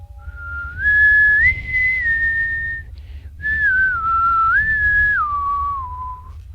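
A person whistles to imitate wind during a tabletop fantasy role-playing session: two long, wavering, sliding whistled tones, clear and close, separated by a brief pause.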